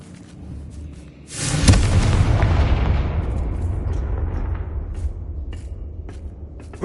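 A Confringo blasting spell in Hogwarts Legacy bursts into a loud, close boom after a short quiet stretch, then trails into a long rumbling decay that fades slowly over several seconds, with no talking.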